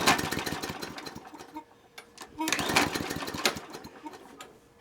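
A spring lawn mower with a suspected gummed carburetor cranks but fails to start: two bursts of rapid mechanical chugging and rattling separated by a short pause, close and fairly loud.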